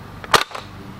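A single sharp shot from a modded Nerf Longstrike CS-6 blaster fitted with an OrangeModWorks Immortal mod kit: a loud, close crack followed by a short, faint rattle, with no one speaking.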